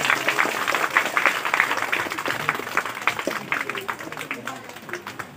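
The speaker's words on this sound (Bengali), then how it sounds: "একটা জোশ হাততালি হয়ে যায়।" An audience applauding at an orphanage event, a dense patter of many hands clapping that gradually thins and fades, with voices mixed faintly underneath.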